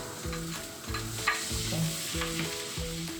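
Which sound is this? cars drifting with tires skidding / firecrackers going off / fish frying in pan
fish frying in pan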